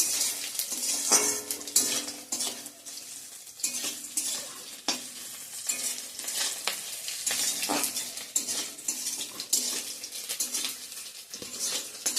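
Black taro stems are fried with dried fish, onion and garlic in a pan, with a continuous close sizzle broken by repeated scraping and clinking as a metal spoon stirs against the pan, no voices.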